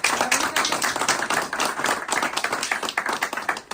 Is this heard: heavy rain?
no